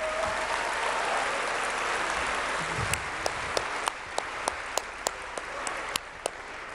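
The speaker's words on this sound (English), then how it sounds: "Can we give them a massive round of applause?" Sustained audience applause at the closing plenary session of the Global Entrepreneurship Summit 2017 as competition winners are honored, a dense wash of many hands clapping, with sharper individual claps standing out near the end.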